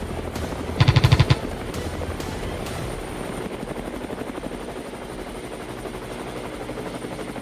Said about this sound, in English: The helicopter tilted gently, dropping lower to give me a clearer shot.